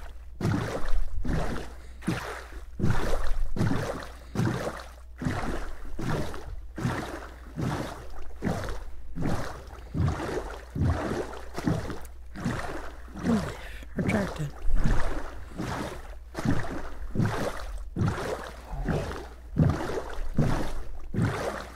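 Regular rhythmic strokes, about one per second, repeat steadily over a low constant hum, like oars dipping and pulling through water, as a boat is rowed in a video game.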